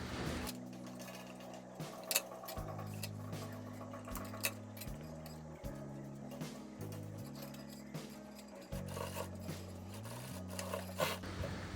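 A sewing machine stitches a half-collar-neck blouse, size 38, in a steady mechanical whir with shifting low hum and occasional clinks, running continuously without talk.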